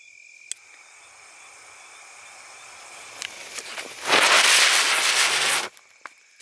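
A Selvas brand ground chakkar firework spins after lighting during Diwali firecracker testing, giving a loud, dense hissing, crackling burst of about a second and a half after a quieter stretch of faint outdoor noise and small pops.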